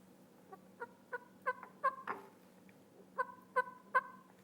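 A hunter's call imitates a wild turkey hen's fly-down cackle, a run of sharp clucks that speeds up into a quick burst and then another short string, clear and alone.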